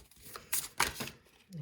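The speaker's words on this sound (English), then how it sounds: "Let's shuffle the cards." Tarot cards shuffled by hand, a few quick riffling, flicking bursts close to the mic at low level, with a faint voice nearby.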